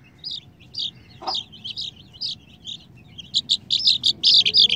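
A male bird calls with a heavier, deeper voice than the female, giving a series of short, close chirps and tweets that grow louder and denser toward the end, with no one talking.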